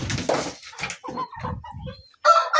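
Young chicks on a farm, twelve birds in a brood: a few close, short bursts of cheeping and clucking calls with brief gaps between them, loud and without talk.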